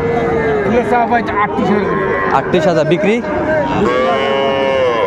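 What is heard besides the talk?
young bulls and calves at a cattle market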